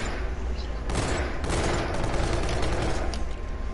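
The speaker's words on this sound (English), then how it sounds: "Dude, why are you shooting?" Dense, continuous gunfire in Call of Duty: Infinite Warfare, rapid shots layered over a busy battle din with a few louder cracks, loud and steady throughout, with voices faintly present.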